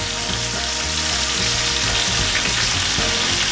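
Australian Wagyu picanha steak searing in a pan of melting butter, a loud, continuous close-up sizzle with bubbling spatter that holds steady the whole time, with no talking.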